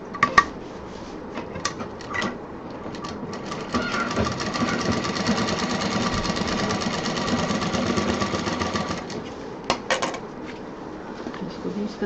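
Sewing machine stitching fabric bag pieces together, a dense steady mechanical whir running for several seconds between short clicks and handling knocks at the start and end, close by with no talk.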